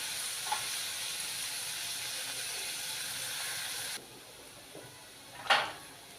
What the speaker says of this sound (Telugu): ఉల్లిపాయలు వేగిపోయాయి.